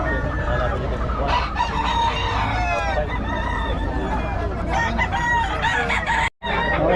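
Many chickens cluck continuously and roosters crow repeatedly at a poultry market in Bocaue. The birds sound loud and close together, with a dense overlapping chorus and one brief dropout near the end.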